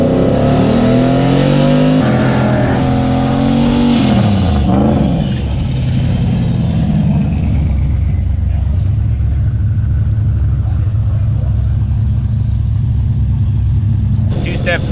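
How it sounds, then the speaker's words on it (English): A boosted drag car on a $6000 budget does a burnout before a drag pass, its engine roaring loud and close with a steady, sustained drone and a falling pitch sweep early on, as a voice talks over it. "Try to do a little bit more of a burnout this time."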